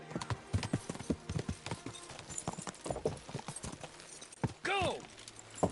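Horses gallop in Kingdom Come Deliverance 2, a quick, busy clip-clop of hooves running throughout, with a whinny near the end and voices speaking over it.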